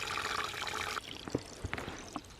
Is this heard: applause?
no